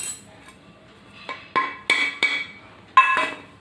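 Green chillies being pounded for a rustic Maharashtrian kharda in a stone mortar and pestle: about five sharp, close knocks in an uneven rhythm, separated by short quiet gaps, with no talking.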